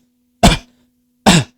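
Two short, forceful coughs from a man with a chronically troubled throat, close and dry, separated by about a second of silence.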